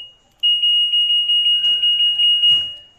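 An LG washing machine gives a rapid run of about a dozen short, clear, high-pitched beeps close by as its sound setting is switched back on, followed by a couple of faint clicks.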